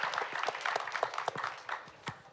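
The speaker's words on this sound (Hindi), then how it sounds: "एक बार जोरदार तालियां हो जाए" Audience applauding a guest at a conference stage event, a moderately quiet patter of clapping hands with irregular peaks, thinning out toward the end.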